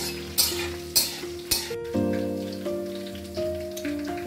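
Torn bay leaf pieces fry in hot oil, a bright crackling sizzle with a few loud stirring scrapes at first, then a softer steady hiss under a faint tonal hum.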